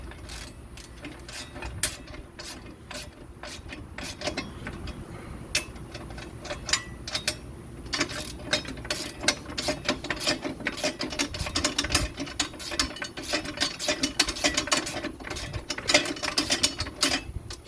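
Hand ratchet snugging 14 mm bolts on a skid plate for a Massey GC compact tractor, with rapid clicking bursts that start sparse and grow denser and louder, close up with no talking.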